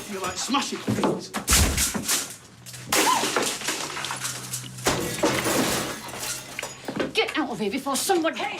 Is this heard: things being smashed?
yes